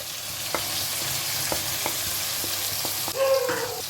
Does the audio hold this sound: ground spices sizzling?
yes